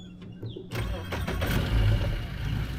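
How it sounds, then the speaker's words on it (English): An outboard motor cranks and catches after a short quiet lead-in, then runs loudly with a steady, rough mid-pitched drone. "let's see if the outboard will start."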